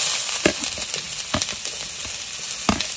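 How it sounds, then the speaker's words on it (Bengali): Onions sizzle and fry in hot oil in a kadai, a steady crackling hiss with a few sharper bursts as they are stirred, close and alone with no talking. "তেলখিনি গরম হল, এটা পিঁয়াজখিনি দি দিম।"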